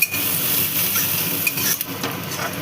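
Crushed garlic and onion fry together in a pan with a constant bright sizzle, joined by intermittent scraping and clinking as a spoon stirs against the metal, close and steady.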